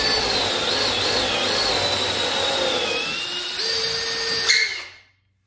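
A handheld router with a router bit cuts into wood using a template for a sliding door handle, giving a loud, high-pitched whine that shifts pitch under load, then spins down and stops.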